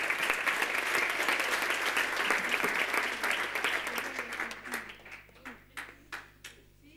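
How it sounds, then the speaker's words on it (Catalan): An audience applauds teachers and students at an educational event on innovative teaching methods. Dense clapping fills the room at first, then thins into a few scattered, separate claps and fades out, with a steady low hum underneath. "Aquest aplaudiment va per vosaltres perquè sou uns autèntics cracs"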